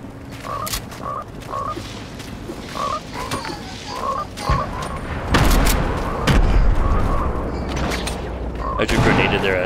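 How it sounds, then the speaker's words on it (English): In Fortnite a grenade blast lands as a loud, deep boom partway through, mixed with scattered gunfire pops and short croaking game sounds. A person talks over the action. "I just grenaded their asses."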